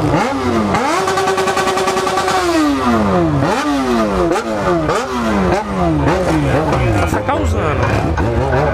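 Yamaha XJ6 motorcycle with an open exhaust revs hard and close, a loud engine note climbing, holding, then falling before a series of quick repeated rev blips, raspy and continuous throughout.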